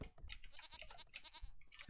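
Goats bleat continuously in a real-time strategy video game, several overlapping nasal calls layered over dense in-game background sound.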